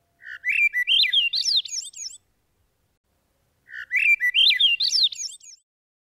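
A Swainson's thrush fledgling sick with bird pox gives two clear, rising, fluty whistled phrases, each about two seconds long, separated by a short silence. The bird sounds close and fairly loud, with no other sounds around it.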